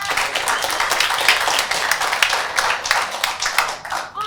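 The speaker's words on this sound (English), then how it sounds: "Round of applause for our guests." Brief burst of audience clapping for guests at an evening interview event on single-stair building policy, close and dense, fading slightly toward the end.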